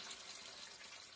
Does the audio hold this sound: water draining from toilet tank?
yes